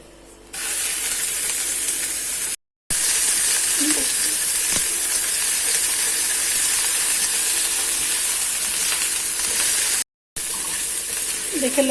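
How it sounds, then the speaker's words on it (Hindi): Garlic and ginger fry in oil for chicken jalfrezi, making a loud, steady, close sizzle that holds for nearly the whole stretch, broken by two very brief silent gaps. "अब इसमें हम 2 टेबलस्पून और ऑयल डालेंगे और साथ इसमें हम लहसुन अदरक डालेंगे और इसको लाइट ब्राउन करेंगे"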